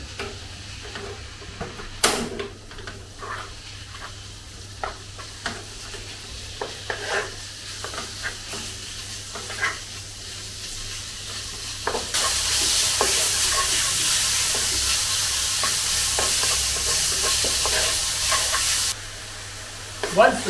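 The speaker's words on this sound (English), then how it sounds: "Now add the beef and to stir fry together with the ginger." Beef pieces stir-fried with ginger in a wok, with steady sizzling and scraping stirring strokes that intensify into a loud continuous hiss partway through, with no talk over it.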